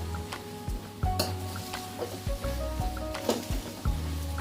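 Chicken chop suey stir fry sizzles in a pan, with a steady hiss broken by several sharp clanks and scrapes of a utensil against the pan, close and moderately loud.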